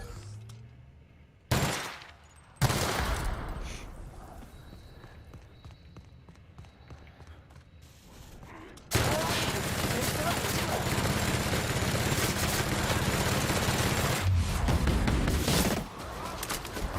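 Gunfire bursts in The Outer Worlds, a sci-fi shooter game: sharp shots at the start, then a long dense stretch of sustained firing and impacts with some game speech mixed in.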